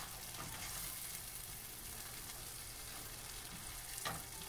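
Eggs for a spinach omelette frying in a pan while being stirred, a quiet steady sizzle with faint scraping and a small clink near the end.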